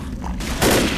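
A single gunshot in the video game Left 4 Dead, in a hospital level, bursts out loud and close, a sharp blast over a steady background rumble.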